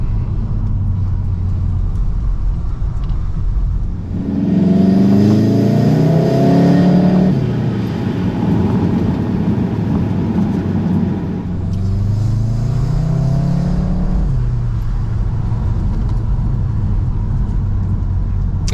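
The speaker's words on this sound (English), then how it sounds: "You do get a slightly different noise with the intake with the R." A VW Mk7.5 Golf R 306HP with a racing-line intake, driven hard: a loud, close engine and intake roar climbing through two strong acceleration pulls with rising pitch, easing off between them.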